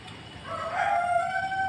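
A rooster crows once, loud and close, a drawn-out rising call that holds to the end over quiet outdoor background.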